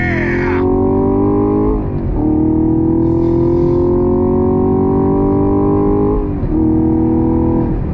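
A 2022 Chevrolet Camaro SS 1LE V8 pulls hard at full throttle, loud and close, its engine note climbing steadily through two quick upshifts, with no speech.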